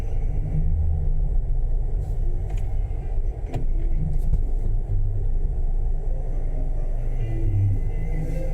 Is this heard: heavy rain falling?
no